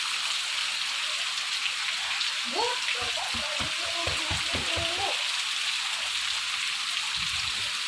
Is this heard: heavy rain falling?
yes